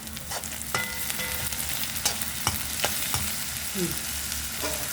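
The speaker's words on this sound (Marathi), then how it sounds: "आणि आता आपण हलवून घेऊया" Tomatoes with salt frying in a pan while being stirred, a continuous sizzle with scattered clicks and scrapes of a spoon, near and moderately loud, no talking.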